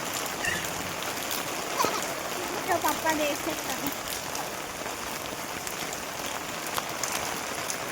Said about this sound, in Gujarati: બધો વરસાદ આવ્યો તો અચાનક એકદમ ધોધમાર